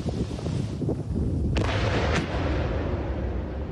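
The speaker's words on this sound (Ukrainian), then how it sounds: "Детонация боеприпасов на складе военного назначения под Джанкоем прекратилась." Ammunition depot in Crimea detonating: a continuous rumbling roar with two sharp booms in the middle, loud and sustained, with no speech.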